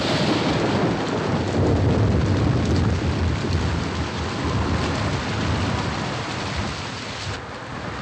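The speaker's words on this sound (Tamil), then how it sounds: "ரொம்ப மழை பெய்யுது" Heavy rain pours down steadily with deep rolling thunder rumbling underneath, a dense, loud, continuous roar throughout with no voices.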